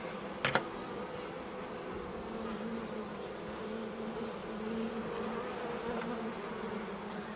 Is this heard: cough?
no